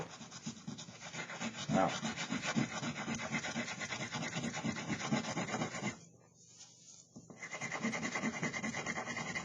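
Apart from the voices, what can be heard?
burnishing milk paint finish on wood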